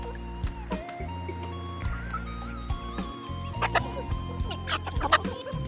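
Chickens on a Vietnamese poultry farm cluck and call near and fairly loud, in repeated short bursts over steady background noise, with a few sharper squawks toward the end.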